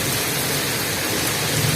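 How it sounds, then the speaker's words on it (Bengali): A storm with heavy rain and thunder lashes a house with a tin roof, a dense steady roar of rain with low rumbling underneath, loud and continuous throughout. "ঝড় উঠেছে, বৃষ্টি পড়ছে,"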